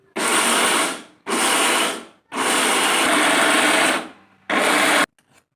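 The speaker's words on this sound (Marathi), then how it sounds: "पहिल्यांदा आपल्याला थोडंसं शेंगदाणे मोठं मोठं वाटून घ्यायचं आहे" A grinder coarsely grinds peanuts for chutney in four loud, steady whirring bursts with short pauses between them, close up and alone.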